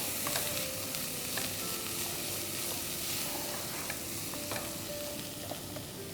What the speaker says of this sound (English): add the sprouts which we have drained and give it a nice mix